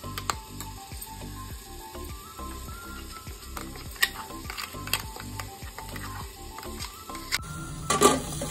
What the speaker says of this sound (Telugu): గోల్డెన్ కలర్ వచ్చిందాక ఆనియన్ ఫ్రై అయిపోవాలి